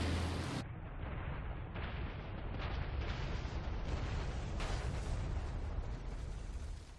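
In an animated war scene a dropped bomb hits German tanks in France, a loud sustained blast and rumbling roar that fills several seconds before tailing off.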